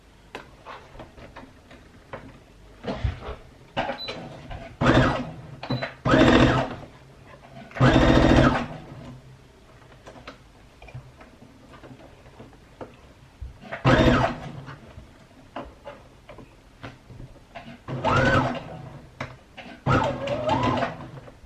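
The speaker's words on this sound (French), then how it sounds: "on va coudre à 1 cm du bord" A sewing machine sewing fabric for a scrunchie, running in short separate bursts of rapid mechanical stitching with quiet ticking and handling noises between them.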